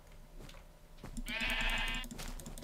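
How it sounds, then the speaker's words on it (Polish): Minecraft sheep bleat in a bright, wavering burst against steady game background noise, and no one speaks. "O, cześć owce."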